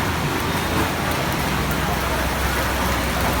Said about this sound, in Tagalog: Ayan, ulan na ulan.